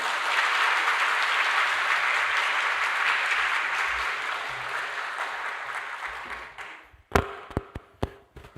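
Audience applause welcoming a guest lecturer to a church lecture, a broad steady wash of clapping for about seven seconds that fades out, followed by a few isolated sharp taps or thumps.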